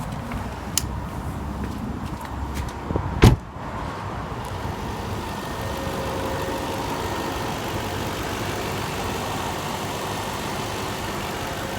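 A 2005 Volvo XC90 AWD engine idles with a steady low hum after a few brief clicks and a sharp knock.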